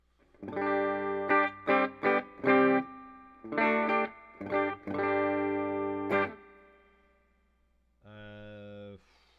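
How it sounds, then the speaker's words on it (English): Guitar chords strum in short bursts through the spring reverb of a Peavey Bandit 112 amplifier, each stab ringing out with a wobbly splash before the next. "reverb is not the greatest. It's definitely very springy sounding"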